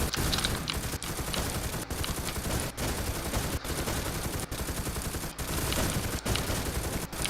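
Sustained rapid gunfire from a shooter video game, dense continuous bursts of automatic fire with brief gaps roughly every second, loud and close throughout.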